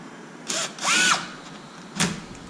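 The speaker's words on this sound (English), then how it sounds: "My electric gun here is very strong." An electric impact gun drives bolts into a Traxxas Wide MAXX kit in three short whirring bursts, the middle one longest, close and fairly quiet in a still room.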